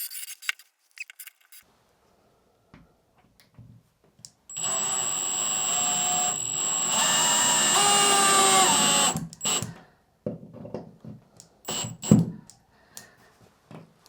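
A drill drives a towel rack screw straight into a drywall stud, a whirring motor burst of about five seconds that rises in pitch as it bites, surrounded by quieter clicks and handling noises.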